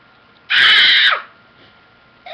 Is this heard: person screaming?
yes